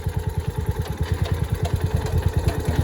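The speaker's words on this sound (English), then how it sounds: "Got a bit of a pop through the muffler. Got a little bit of it's running a little lean." A John Deere 1200A engine with a severely varnished carburetor runs lean at idle, chugging in a steady, lumpy rhythm with repeated pops through the muffler, close and continuous.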